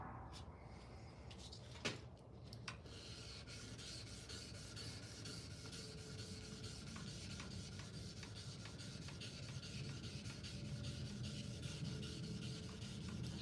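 Kitchen knife blade being hand-sanded on a final grit, a faint continuous rubbing and scraping with quick back-and-forth strokes, quiet and close, with one brief knock early on.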